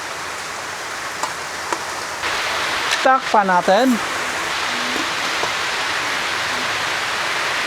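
Steady rain hisses throughout a typhoon at a small farm, with a person speaking briefly in Filipino in the middle over the downpour.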